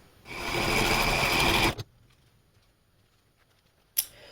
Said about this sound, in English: I'll come back and sew those sections together until I have my entire tree together